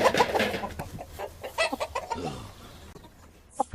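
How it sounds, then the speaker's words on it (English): A flock of chickens clucks busily and close, with overlapping squawks and cackles in an irregular chatter and one sharp cry near the end, with no speech over it. "Oh no! What? A flock of chickens!"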